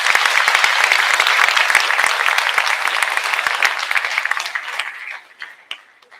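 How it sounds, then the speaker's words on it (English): An audience at a school award ceremony applauds steadily with dense, continuous clapping that thins out and fades to a few scattered claps over the last second. "A round of applause for Mr. Koulis, please."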